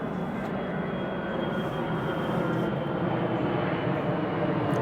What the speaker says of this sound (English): I hope you can hear my voice with the airplane coming by.